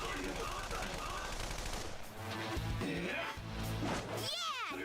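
Gunfire from a bullet attack in the Persona 5 video game, dense bursts of shots layered with music and battle effects, loud and continuous throughout with a sweeping effect near the end.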